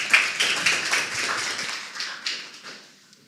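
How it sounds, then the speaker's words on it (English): Applause from an audience at a cybersecurity meetup talk, a dense patter of clapping that rises quickly and then tapers off over a few seconds. "Let's give an applause to Kristo."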